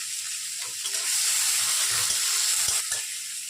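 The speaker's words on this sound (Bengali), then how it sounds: "এগুলোকে ভালোভাবে একটু ভেজে নিচ্ছি" Finely chopped onion and six or seven minced garlic cloves fry in a pan for a mustard pointed-gourd curry. They give a steady, bright, hissing sizzle that holds evenly throughout, close by, with faint low knocks underneath.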